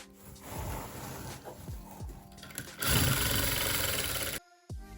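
A sewing machine stitches Asooke fabric along a garment's neck curve toward the sleeve, with rhythmic close mechanical thumps that break into a loud continuous whirring run before stopping abruptly.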